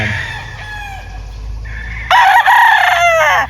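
Gamefowl roosters on a farm crow in succession: a moderate drawn-out crow first, then a louder, nearer rooster bursting in and sustaining its call to the end.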